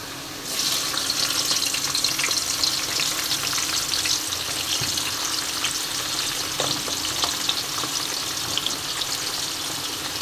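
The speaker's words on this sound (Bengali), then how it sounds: "ক্যাপসিকামটা ভেজে নিই হাই ফ্লেমে।" Capsicum fries on high flame in hot oil left over from pakoras, a loud, continuous close sizzle that starts abruptly and keeps up throughout, with occasional stirring clatter.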